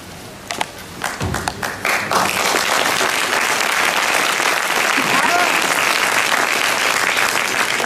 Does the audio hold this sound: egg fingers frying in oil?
no